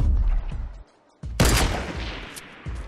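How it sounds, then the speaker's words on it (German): A rapid burst of Fortnite gunfire crackles loudly, a short pause, then another heavy volley with sharp shots trailing off. "da hinten gehen die Gunfights"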